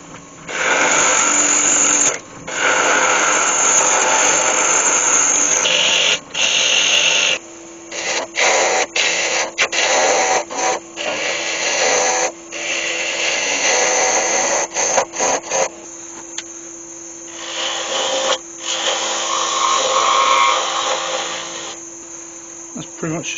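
Wood turning on a lathe to strip away a lot of wood from a Christmas gonk ornament, a loud continuous whirring with a steady tone, broken by frequent short gaps and scraping bursts as the tool cuts.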